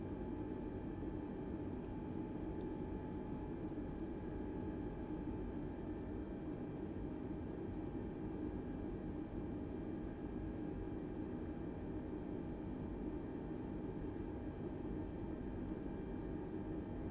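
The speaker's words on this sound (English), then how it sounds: "Currently taxiing to the ramp." Inside the cabin of a Delta airliner taxiing to the ramp after landing in Fort Wayne from Charlotte, a steady broadband roar and engine hum drone continuously without talking.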